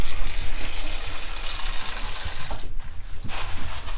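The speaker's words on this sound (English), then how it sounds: "you can add some water" Water runs steadily over frozen food that is thawing in the kitchen, a continuous trickling and splashing close by with no talking.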